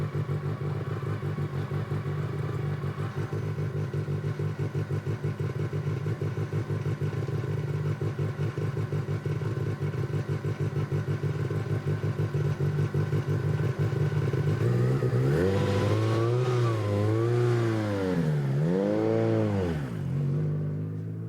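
A 1986 Ford RS200 rally car at an outdoor concours awards event, its engine idling steadily and then revving in several rising and falling sweeps near the end, loud and close with no talk over it.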